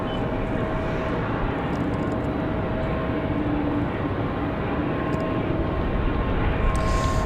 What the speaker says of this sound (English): So American Airlines off to Chicago, that A319